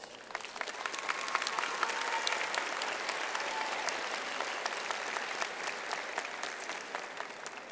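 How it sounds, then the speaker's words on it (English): An audience applauds at a high school graduation ceremony, sustained crowd clapping with a few scattered sharper claps standing out, steady and fairly distant in a large space for nearly eight seconds. "I think they deserve a round of applause."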